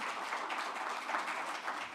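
A conference audience breaks into steady applause to welcome the CEO of the Ghana Investment Promotion Center to the stage, a dense, even patter of clapping.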